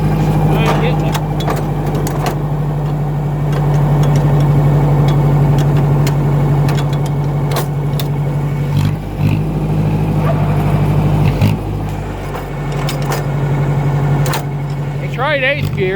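A 2010 John Deere engine runs steadily and loudly throughout as gears are shifted, with a constant low drone, brief dips and clunks during the shifting, and a voice heard over it at times.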